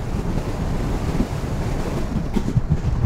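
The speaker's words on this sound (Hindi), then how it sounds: "जो पानी की बौछार आती है पूरे दिन आती रहती है" Sea waves at Dhanushkodi near Rameshwaram break against the shore and throw spray onto a wet coastal road, a steady rushing surf roar mixed with wind buffeting, no voices.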